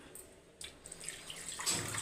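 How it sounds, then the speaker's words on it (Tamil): Water runs and splashes steadily into a cooking pot of fish curry, starting quietly and growing fuller and louder toward the end, with no voices. "தண்ணி ஊற்றிக்கலாம்"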